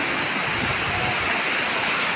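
Heavy rain pours down steadily, a dense, constant hiss of drops hitting surfaces all around with no pauses and no voices.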